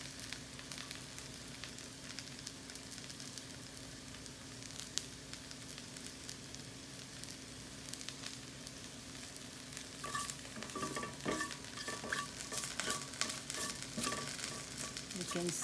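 Mustard, fennel and methi seeds fry in hot oil with a steady, close sizzle and crackle, growing louder and busier with popping toward the end; no one speaks.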